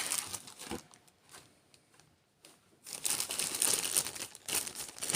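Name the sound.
cellophane wrapping being opened on a model kit box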